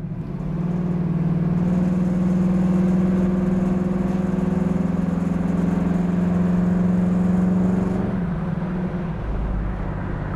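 A 1968 Chevrolet Camaro SS runs with a steady, loud engine drone that holds an even pitch for about eight seconds, then drops off sharply and settles lower.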